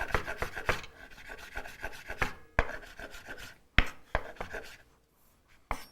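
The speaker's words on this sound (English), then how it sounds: "A chef knife right here, and just kind of chop it. Like I said, just rough chop." A chef knife roughly chops herbs on a wooden board for a simple vinaigrette. Quick, uneven taps and rasping strokes come close and clear, in irregular clusters that thin out toward the end, with no talking.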